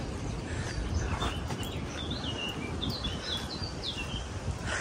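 A small bird chirping in a natural park, several faint, high twittering calls scattered over a steady outdoor background hum, with no voices during the calls.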